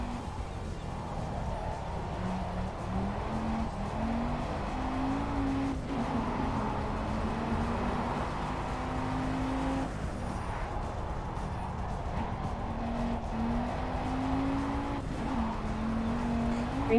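Racing cars in a video game drone steadily with engine tones rising and falling as they shift, tires occasionally squealing, a continuous mid-level roar throughout.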